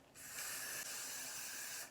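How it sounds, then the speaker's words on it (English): A continuous hiss of hairspray from an aerosol can, one steady burst close by lasting under two seconds. "So then we're gonna spray that."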